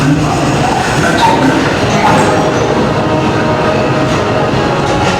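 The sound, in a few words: train running on railroad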